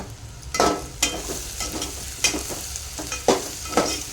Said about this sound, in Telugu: బాగా వేగాలి. కలమాకు కూడా వేసేసుకుందాం.